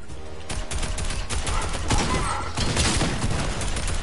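Gunfire from guards in the video game Fortnite, a dense burst of rapid shots crackling continuously over roughly four seconds at steady, fairly loud level.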